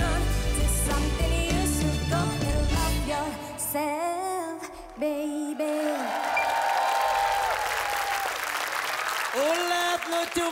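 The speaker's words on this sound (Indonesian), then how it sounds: "Tepuk tangan lagi dong" Studio audience at a televised singing competition applauds after a song performance, loud continuous clapping under lingering music and voices that fade and return.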